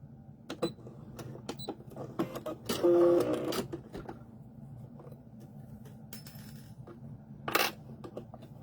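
A sewing machine back stitching fabric for a wrist key holder runs in short mechanical bursts, the longest and loudest lasting about a second, separated by quieter handling noises.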